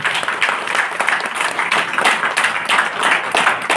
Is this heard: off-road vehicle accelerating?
no